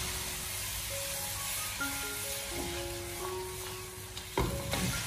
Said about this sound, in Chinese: 然后再开大火给它快速的翻炒一下，将它翻炒均匀